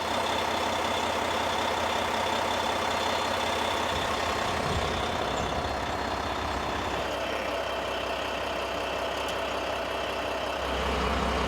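A diesel truck engine runs steadily during a parked DPF regeneration, a loud, constant idle-like drone, with a slight change in tone near the end.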